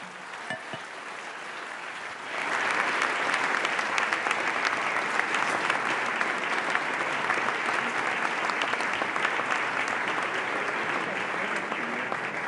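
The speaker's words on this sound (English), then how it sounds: "Please, a hand of applause." Conference audience at a Munich security gathering bursts into loud sustained applause after a short quieter lead-in, the dense clapping holding steady to the end.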